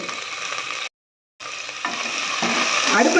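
Fennel seeds and onion sizzle and fry in a hot pan of oil, a steady loud crackle broken by a brief gap, then growing busier as ingredients are stirred in.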